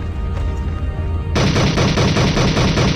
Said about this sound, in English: I am gonna go up and use the turret